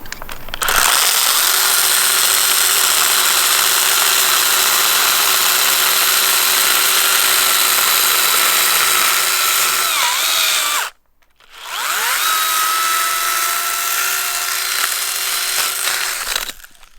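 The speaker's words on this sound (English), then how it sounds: "Big branch, easily taken down with the pruning tool." Ryobi cordless pruning saw cutting through a big branch, a loud steady motor whine with rasping blade noise that runs about ten seconds, stops abruptly, then spins back up and keeps cutting to the end.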